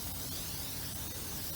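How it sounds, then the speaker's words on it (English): A can of WD-40 sprays steadily onto freshly washed 20-ton jacks, giving a continuous close-up aerosol hiss that runs without a break for the whole moment. "we're spraying WD-40"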